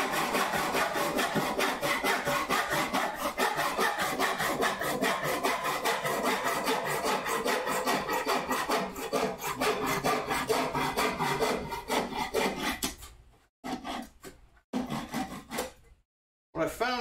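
A hand saw cuts through wood in rapid, steady back-and-forth strokes, close and loud for about twelve seconds, then slows into a few separate strokes with brief pauses as the cut finishes; no talking.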